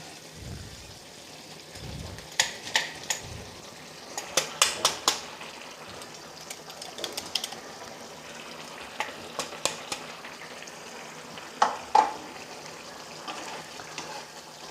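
Soft frying sizzle of cluster beans stir-fried in a pan with intermittent clinks and scrapes of a spatula stirring, quiet and close, with sporadic sharper knocks.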